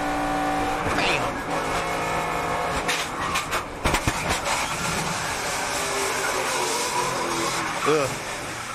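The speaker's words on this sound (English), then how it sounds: "This is going to be a hard wreck." NASCAR race car wrecking on the last lap at Talladega, a loud onboard roar of engine and tire skid with sharp impact bursts, overlaid by excited commentary voices throughout.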